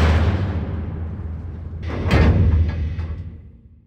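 Heavy cage door in a sci-fi creature scene: a low rumbling mechanical rush that swells, then a sharp clanking release and grinding slide around the middle, fading out afterward.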